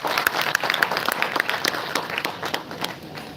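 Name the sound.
audience applause for students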